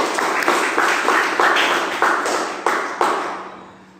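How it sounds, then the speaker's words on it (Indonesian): Audience applause, a burst of claps in uneven waves that swell and fall several times before fading out at the end. "Tepuk tangan untuk kita semuanya."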